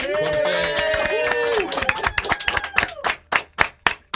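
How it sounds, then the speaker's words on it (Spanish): Audience applause at the end of a show begins under music and crowd noise, then thins into sharp, separate claps spaced out toward the end. "Un aplauso."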